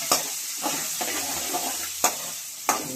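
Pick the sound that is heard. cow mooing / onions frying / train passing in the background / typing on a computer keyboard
onions frying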